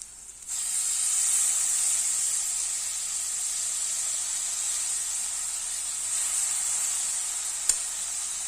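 Cooked rice added to a hot pan for surakkai sadam gives a sudden loud sizzle and hiss that settles into steady frying, with a faint stir near the end.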